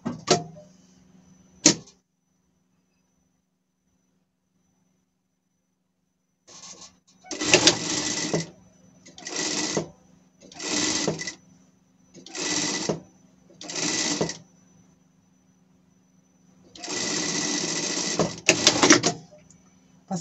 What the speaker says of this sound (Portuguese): a gente vai passar uma costura aqui